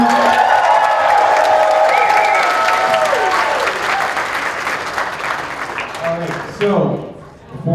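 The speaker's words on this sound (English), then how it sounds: "let's give a round of applause for the person who made this all happen" At an improv Dungeons & Dragons show at the C2E2 2025 convention, the audience claps and cheers loudly for a while, with whoops and voices over it, and the applause fades near the end.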